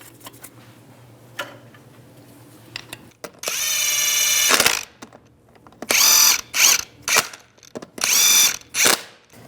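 Several short bursts of an impact gun or power driver tightening the lug nuts on a rear wheel of a 2001-2008 Chevy Trailblazer: one long rattling run, then four or five quick whirring pulses close by, with no talk.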